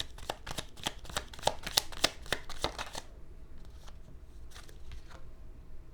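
Tarot cards shuffled for a card reading, a rapid run of crisp riffling flicks for about three seconds, then a few quieter taps and slides of the deck, close and alone.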